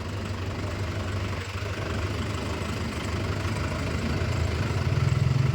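A Mahindra Yuva Tech+ 585 tractor engine drones loudly and steadily out in a field, a continuous close rumble with no breaks and no voices.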